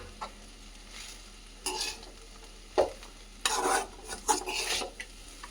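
Fried chicken stir-fried into rice with fried egg in a pan, a soft background sizzle broken by scraping, clinking spoon strokes in short bursts, fairly faint and close.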